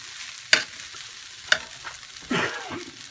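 Jumbo shrimp and rice stirred in a hot pan after the heat is switched off, with two sharp utensil clacks against the pan, a few softer scrapes and a short rasping stir, over a quiet background hiss with no talk.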